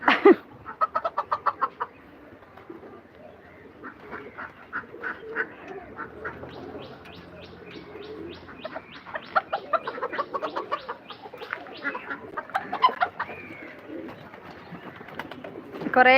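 Pigeons and chickens at a home farm, with a mix of clucks, quacking-like calls and coos coming in bursts over about sixteen seconds, close by, amid scattered rustling and a faint voice now and then.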